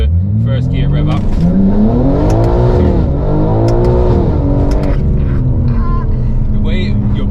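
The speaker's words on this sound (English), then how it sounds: "The first gear rev up." A BMW G80 M3 being built toward 1000 hp revs up hard in first gear, loud rising engine pitch sweeping up and falling back twice, with talking over it.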